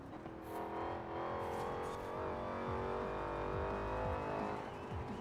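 Supercharged car engine in the racing game Forza Horizon 4, a close, steady mechanical whine and drone that rises and falls with repeated shifts and throttle changes, alone without talk.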